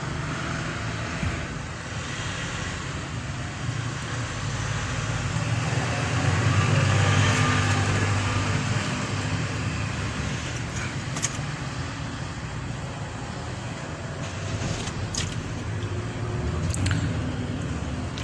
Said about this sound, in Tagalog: paanda rin po natin ng makina